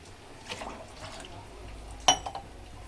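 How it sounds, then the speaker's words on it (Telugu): Water poured into a pot of strained melted jaggery while making festival sweets, a few faint liquid trickles and splashes followed by a sharper clink-and-splash burst near the end, all quiet and close. "ఇందులో ఇంకా కొంచెం వాటర్ పోస్తా"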